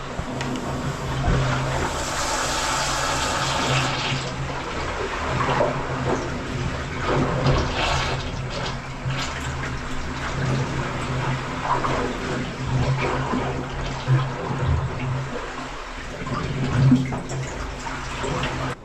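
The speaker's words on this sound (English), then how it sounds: "there's too much water coming out" Water pours and gushes steadily into a leaking sailboat at sea for the whole stretch, a constant noisy rush with faint low rumbling beneath.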